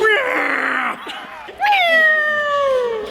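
A voice imitates a Star Wars TIE fighter with a loud, sustained high-pitched screech, briefly breaking off near the middle before a second long wavering wail that slowly falls in pitch.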